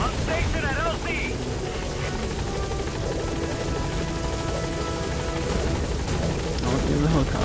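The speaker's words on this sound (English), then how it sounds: "I'll get in the helicopter." A helicopter in the video game Metal Gear Solid gives off a constant loud rotor drone and engine whine, with voices speaking over it throughout.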